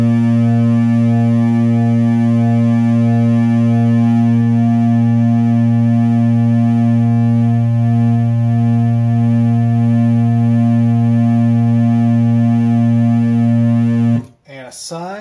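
A Wave Pulse Animator synth module puts out a steady, loud triangle-wave tone. It holds unbroken for about fourteen seconds, then cuts off into a brief burst of different sound at the end.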